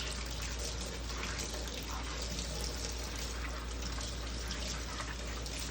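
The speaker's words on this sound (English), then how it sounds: "we want to make sure we rinse the instrument before we send it to the mechanical" Tap water runs in a steady, even hiss over a medical instrument being rinsed in a sink, close and continuous, with no speech.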